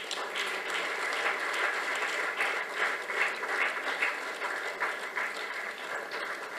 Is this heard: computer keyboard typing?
no